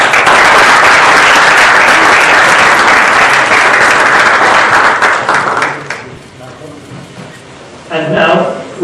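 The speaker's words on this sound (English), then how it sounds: "Give him a big round of applause." An audience applauds the Master of Ceremony at a Toastmasters event, a loud, dense clapping that runs steadily for about six seconds, then thins out and fades, with a short burst of voices near the end.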